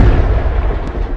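A loud firecracker blast set off close by in a narrow lane: a dense, booming roar fills the short moment, with no voices.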